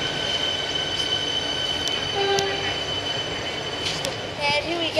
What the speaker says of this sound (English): that train is leaving now